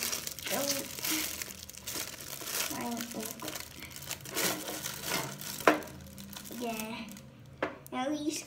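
A plastic bag crinkles and rustles steadily in a bathroom, hung against a sink handle, with bursts of crackling and a sharper snap, while a person talks over it.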